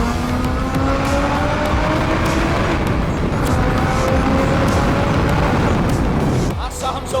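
A car engine roars steadily on a long road trip through a tunnel, loud and continuous with a rising drone and echoing road noise, ending with a brief drop as the sound shifts.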